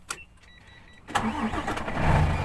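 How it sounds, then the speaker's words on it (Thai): A click, then the diesel engine of a Hino S700 trailer truck cranks and catches easily, settling into a steady, rumbling idle nearby. "โอ้ สตาร์ทติดง่ายด้วยครับ"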